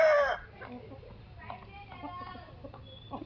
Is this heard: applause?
no